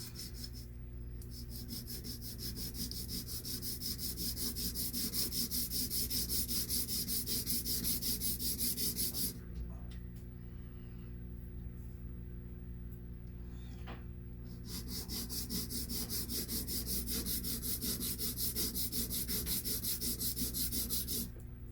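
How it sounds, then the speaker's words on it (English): Fine sandpaper is rubbed by hand along a bevelled wooden edge in a continuous rasping scratch. A short pause in the middle separates two long stretches of steady back-and-forth sanding, all close and fairly loud. "pretty fine sandpaper on there. Just want to kind of, this has a little bevel on either side, so I'm just going to smooth it down,"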